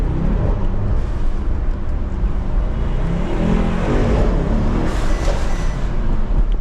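A Mercedes-AMG GT63 S revs with a loud, steady engine roar, a deep rumbling drone that holds at high volume throughout, close by, with no talking.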